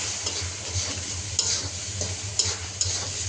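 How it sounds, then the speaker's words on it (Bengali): Shrimp fry in spice paste in a pan, a loud, close, continuous sizzle with a few sharp stirring clinks, no talking. "মশলাটার মধ্যে চিংড়ি মাছটা ভালো করে ভেজে নিচ্ছি।"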